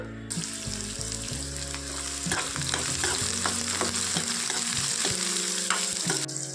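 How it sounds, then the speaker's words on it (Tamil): Bitter gourd pieces frying in hot oil and being stirred in the pan, a loud continuous sizzle with scraping stir strokes and occasional clinks, no voices. "பாவக்காய் எண்ணெய் போட்டு நல்லா வணக்கிக்கலாம்"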